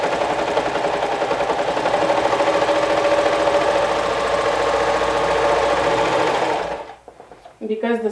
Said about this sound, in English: place it right sides together and stitch it with a half an inch seam allowance at the shoulders